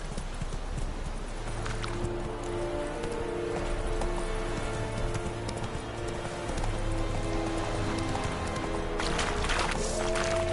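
Horse hooves galloping in The Witcher 3: Wild Hunt, a fast steady clip-clop rhythm held throughout, close and fairly loud over a low ambient game bed.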